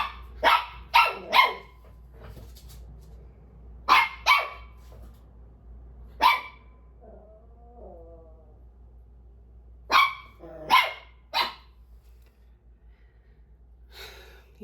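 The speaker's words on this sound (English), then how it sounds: "He's barking at the Chewy." A dog barks at a Chewy delivery in an apartment, sending out several bursts of two or three sharp barks separated by pauses, plus a soft whine in between, with no talking.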